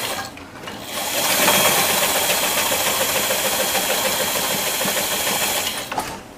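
A sewing machine sews the side seam of a waistband for a pinafore dress, a close, loud and steady whirring hum that starts up, runs without a break, and slows to a stop at the end.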